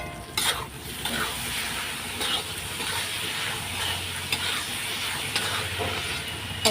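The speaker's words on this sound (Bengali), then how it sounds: "মশলা কষিয়ে নিচ্ছি দেখো" Spice paste with onion paste stir-fried in a pan for a fish curry, a steady close sizzle with scraping stirs and occasional clinks, no voices.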